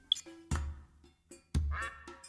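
A duck in theHunter video game, Vurhonga Savanna, lets out a few loud, abrupt quacks spaced about a second apart, with fainter bird calls and ambient game sound in between.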